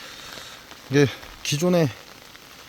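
Steady rain hisses over an outdoor beekeeping yard during a thunderstorm, a soft, even patter running continuously under a man's speech.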